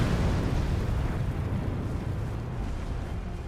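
A boss attack explosion in Elden Ring, a loud, rumbling blast that swells at once and slowly fades over a few seconds into a rolling low roar.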